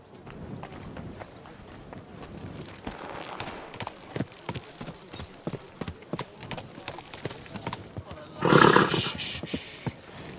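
Horse in Kingdom Come: Deliverance 2, with steady hoof clip-clops throughout and a loud, bright neigh near the end, faint murmuring in the background.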